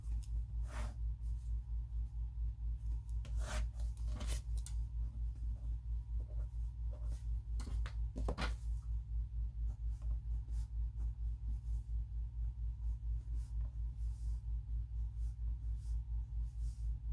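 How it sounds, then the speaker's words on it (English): Pen scratching across paper while number lines are drawn, a few faint strokes and scrapes spread out over a steady low electrical hum. "I usually will draw the 3 number lines."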